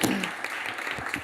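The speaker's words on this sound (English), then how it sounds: "come on, round of applause for diversity." An audience applauds during an interview event, a brief, fairly soft patter of clapping with some voices mixed in.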